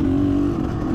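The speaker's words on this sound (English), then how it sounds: "You're gonna hear my bike doing that a lot in the next minutes of this video." A trail motorbike's engine on a muddy countryside trail ride holds a loud, steady, close revving drone with a strong low hum throughout the short moment, no voices.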